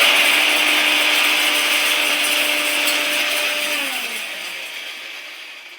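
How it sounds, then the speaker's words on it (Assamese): A mixer grinder whirs loudly while grinding pickle ingredients, a steady high motor roar that holds and then winds down toward the end, close by and with no talking. "এটা মিক্সিত অলপ খুন্দি লও"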